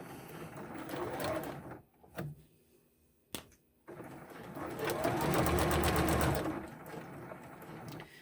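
Sewing machine top-stitching elastic loops into a fabric face mask, running in steady bursts with a short pause and a couple of sharp clicks before a longer, louder stretch of stitching.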